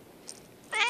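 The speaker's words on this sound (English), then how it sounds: "Cat." A cat gives one short, fairly loud meow near the end, after a moment of quiet room noise with a faint click.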